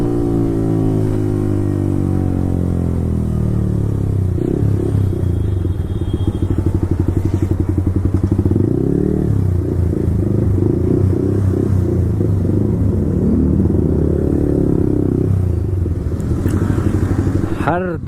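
A Yamaha R15 V4 motorcycle with an Akrapovic exhaust rumbles loudly and close, with engine pitch sweeping up and down through downshifts and crackles, steady throughout.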